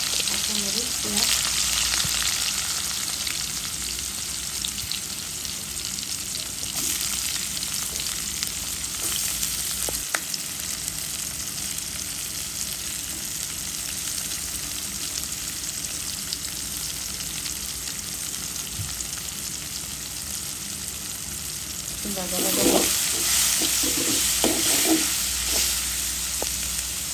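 Green chillies and onion sizzling and frying in oil left over from frying chewa fish, a continuous loud crackle with occasional stirring scrapes, ending in a sharper hiss and bubbling when water is added.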